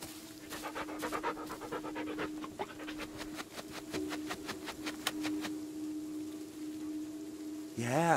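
A dog pants rapidly in a quick, even rhythm in the video game Blair Witch, close and continuous over a low steady hum, ending with a brief sliding sound.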